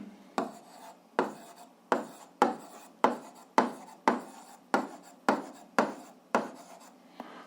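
Chalk or marker strokes on a board while a physics problem is worked out, about eleven sharp scraping strokes in a steady rhythm, each starting with a crisp attack and fading quickly, close and fairly quiet with no voices.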